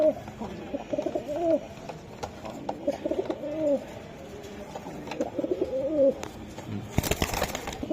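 Male pigeons cooing in a loft, several repeated throaty rolling coos at close range with bird rustles between them and a burst of noise near the end.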